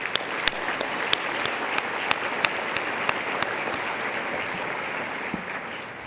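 Audience at the BE LOUD Breakfast event applauding steadily in a packed room, dense clapping throughout with a few sharper individual claps standing out.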